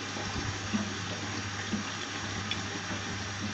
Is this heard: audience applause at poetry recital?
no